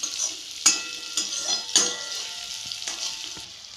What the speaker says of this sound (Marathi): आपण सर्व मिश्रण एकत्र तेलावर परतून घेणार आहोत.